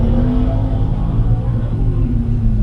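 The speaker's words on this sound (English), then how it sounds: "Travis Durant in the 79 Chevrolet Camaro white primer." A 1979 Chevrolet Camaro in white primer racing on an autocross course, its engine a loud, close, steady rumbling drone with slight rises in pitch.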